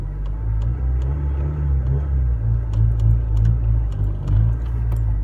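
Engine of a manual car rumbling steadily as the gas is fluttered, a low, loud drone that swells and dips gently throughout, heard from inside the car with a few faint clicks and no talking.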